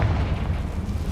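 Confringo fire spell blast in the Hogwarts Legacy video game, a short loud rumbling boom that fills the whole moment without any voice.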